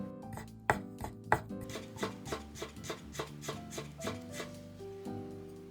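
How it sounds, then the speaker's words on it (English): A knife chopping thinly peeled yuzu skin on a board: a steady series of crisp, close chops, sharpest at first and then softer and evenly spaced, with no voices. "and I chop it."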